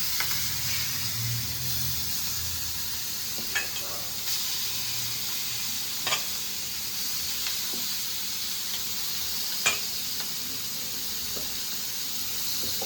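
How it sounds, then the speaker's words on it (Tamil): Large prawns frying in oil on a dosa griddle, giving a continuous bright sizzle with occasional sharp pops and spatters, close and alone. "மிக்ஸ் பண்ணிவிட்டு நம்ம தோசைக்கல்லில் இப்போ எறாவை போட்டு ஃப்ரை பண்ணிக்கலாம் ஃப்ரெண்ட்ஸ்."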